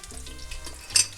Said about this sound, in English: So you can see I am frying this up. You want your spices to toast a little bit.